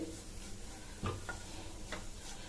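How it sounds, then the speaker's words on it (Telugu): Grated coconut mixture being stirred in a pan on the stove, a faint low sizzle with a few soft spoon scrapes and light taps against the metal, quiet and close. "మంట తగ్గిస్తూ పెంచుకుంటూ మనం ఇలా కలుపుకొని పెట్టుకోవాలి."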